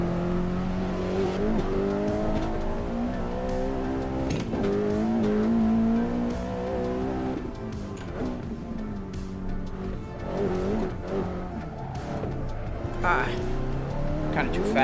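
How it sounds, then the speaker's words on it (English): Honda Civic Type R engine droning and revving through gear changes on the Nordschleife tourist layout in a racing game, loud and continuous with tire squeal, while people talk over it. "We're driving the Honda Civic Type R in"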